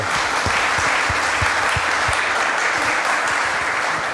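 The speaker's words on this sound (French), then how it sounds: "Je vous propose qu'on les applaudisse parce que, voilà, parce que ça a été un gros travail." A large crowd at a corporate conference event in France applauds warmly, a loud, continuous wash of clapping hands with individual claps standing out up close, no speech on top.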